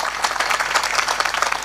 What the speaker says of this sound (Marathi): या बाल वारकऱ्यांसाठी एकदा जोरदार टाळी वाजवा